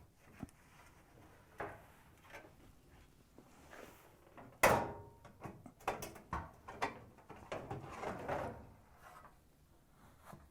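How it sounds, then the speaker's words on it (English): Sheet-metal bulkhead panel being pulled up and off a Whirlpool, KitchenAid or Maytag dryer: faint scrapes and rattles, then a sharp metallic clank midway, followed by a string of smaller knocks and clatters. "Pull the bulkhead up and remove it from the top screws."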